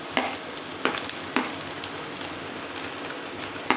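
Green chillies frying with shallots in hot coconut oil, a close, continuous sizzle broken by several sharp crackling pops and stirring scrapes at irregular intervals.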